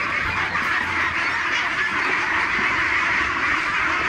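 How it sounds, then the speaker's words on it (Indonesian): A flock of ducks quacks loudly and continuously while people catch them, a dense, close chorus of overlapping calls with a busy, scuffling background. "Nah, terus si Padli udah enggak sabar tuh nangkapin bebek ini."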